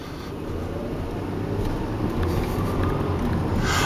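Heavy road traffic on Route 110 produces a steady low rumble of engines and tires heard from inside a moving vehicle, gradually growing louder and constant throughout.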